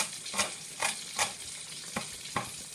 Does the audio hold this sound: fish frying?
yes